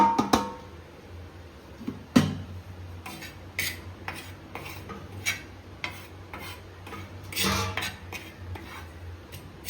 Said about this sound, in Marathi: आता आपण तांदळाचं पीठ भाजणार आहोत. असं पीठ भाजून घेऊ आपण.